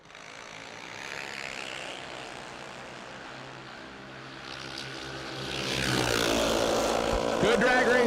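Drag racing cars launching and running down the strip at the New Year Nationals, a sustained engine roar that swells louder toward the end, with a voice speaking over it.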